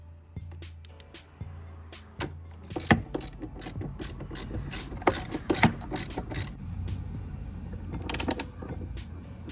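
Ratchet torque wrench clicking as it tightens four bolts on a 2023 Yamaha Zuma 125cc scooter, a series of sharp, close mechanical ratchet clicks in uneven bursts with no talking.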